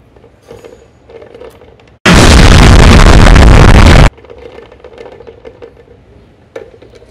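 Fuel pours out of a Toyota Hilux 2.5 fuel module into a container, a loud continuous splashing gush of about two seconds that stands alone between quiet stretches of handling noise.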